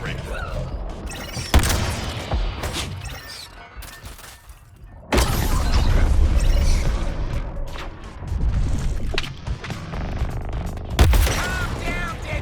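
Heavy artillery blasts and gunfire erupt in the Suicide Squad: Kill the Justice League game, with booming impacts, debris and shattering over a busy battle mix. Voices shout and talk throughout.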